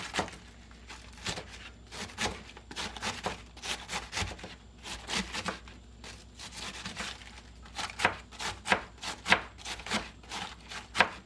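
A sharp knife shreds a cabbage for Salvadoran curtido, making repeated crisp tearing and slicing strokes in an irregular rhythm, close and moderately loud, with the cuts coming quicker toward the end.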